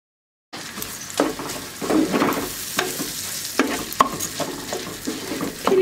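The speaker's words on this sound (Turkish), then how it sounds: "Pirinci 1-2 dakika kavuracağım." Washed rice stirred and toasted in a hot oiled pan, with a steady sizzle and repeated scraping strokes of a spoon at a regular rhythm, close and clear with no talk.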